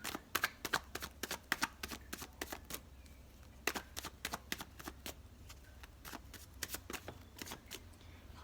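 A deck of tarot cards being shuffled close up, with a long run of crisp, rapid riffling bursts and flicks at an uneven rhythm, alone without talk.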